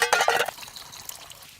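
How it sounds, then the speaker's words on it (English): Rocks dropped into a pot of boiling water at a forest bushcraft camp give a short burst of splashing and bubbling that fades quickly into a quieter simmer. "I'll put these in boiling water and heat them up."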